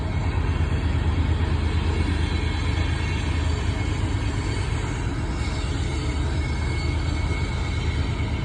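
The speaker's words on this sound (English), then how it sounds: "Here's just a regular old coal train." A Norfolk Southern coal train passes in Ridgeway, Virginia, a steady, continuous rumble of rolling wagons that holds at a fairly even level throughout, with no talk.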